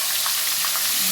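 Garlic and ginger paste sizzles steadily in a hot pan, a close, bright hiss with small crackles and no pauses.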